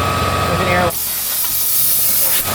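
Compressed air blows out the spark plug hole of an old Mustang GT that sat rotting in a field, one loud continuous hiss lasting a couple of seconds after a brief lead-in.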